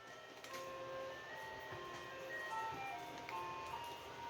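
An ice cream truck plays its tinkling melodic jingle in the distance, faint but steady, with a soft background hum and a few light clicks.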